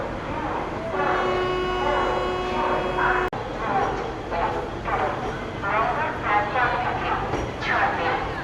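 A train pulling out of Asansol Junction: a steady, fairly close horn tone sounds for about three seconds, then gives way to rumbling train noise while people talk.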